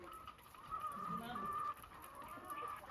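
Chickens cluck softly in their coops on a farm. The calls are faint and somewhat distant over a low background hiss, with a brief louder stretch in the middle.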